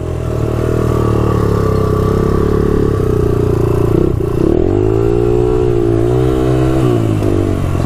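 Honda ATC 200x three-wheeler engine revving loudly and close, a steady drone that dips and then climbs again in pitch as the throttle is worked, with mechanical clatter underneath.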